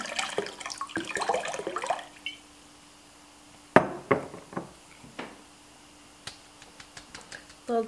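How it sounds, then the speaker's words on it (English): Water runs and splashes for a couple of seconds as tomato seeds are rinsed, then stops, followed by scattered drips and light taps in a quiet room. "So I'm going to give this a final rinse"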